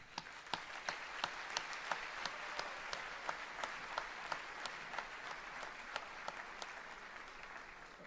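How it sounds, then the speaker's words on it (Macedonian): A concert audience applauds steadily for several seconds, a broad wash of clapping with sharper individual claps popping out in a regular rhythm. "Мислам дека всушност и најголемиот аплауз треба да биде за нив."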